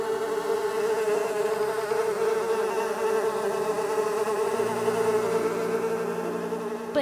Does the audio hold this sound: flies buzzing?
yes